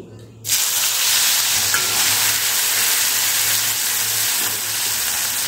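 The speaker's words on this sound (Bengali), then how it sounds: "তেলটা একটুখানি গরম হয়ে গেলে এর মধ্যে দিয়ে দিচ্ছি একটা শুকনো লঙ্কা আর দিয়ে দিচ্ছি 2টো টমেটো কুচি" A dried red chilli and two chopped tomatoes hit hot white oil in a pan, bursting into a loud, steady close sizzle right after a brief quiet moment, then holding an even hiss throughout.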